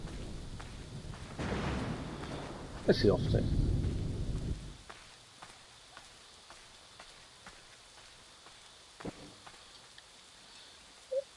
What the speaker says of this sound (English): Storm's coming in, which doesn't help us.